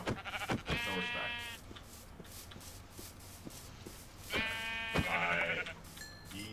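Minecraft sheep bleat twice, a wavering nasal baa early and another about three and a half seconds later, close and clear over soft shuffling and light game noise, with a voice talking faintly between them.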